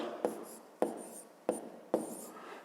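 A pen writes numbers on paper while a fifth-grade math exercise is being solved, making four evenly spaced short scratching strokes, close and distinct, with no talk.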